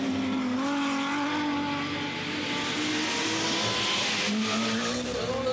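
Opel Ascona rally cars race at a 1985 Belgian rally stage, engines roaring continuously with loud revving, shifting pitch and tyre noise, close and sustained without speech.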